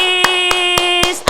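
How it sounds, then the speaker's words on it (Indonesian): Four evenly spaced, sharp claps ring out over a steady sustained keyboard chord at an Indonesian children's Sunday program, loud and close, ending with a final clap as the chord drops away. "kita beri tepuk tangan dulu sama Om Chris"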